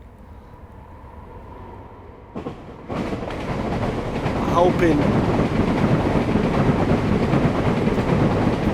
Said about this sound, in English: Train just gone past.